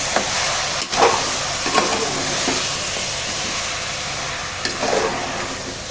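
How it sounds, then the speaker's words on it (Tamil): Chicken gravy simmers and sizzles steadily in a pan, with a few soft scraping stirs of a spoon breaking through the continuous bubbling hiss. "இது நல்லா கொஞ்சம் கலந்து விட்டுக்கலாம்."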